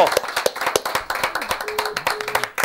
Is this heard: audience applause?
yes